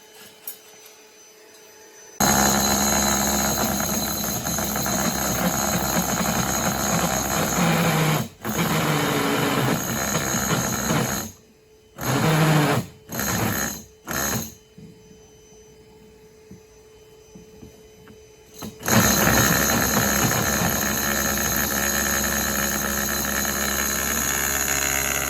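Power drill boring into wood during an air conditioner installation: a loud close whine running for long stretches, broken by several short bursts and stops before a final sustained run.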